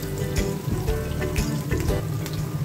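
Paneer frying in an oil-filled pan, giving a steady close sizzle with occasional crackles and pops across the whole stretch, with no voices.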